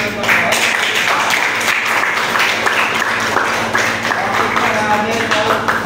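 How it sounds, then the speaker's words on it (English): A classroom audience claps after a group's geometry class presentation, a dense steady burst of applause lasting several seconds with voices mixed in. "Let's give them a round of applause."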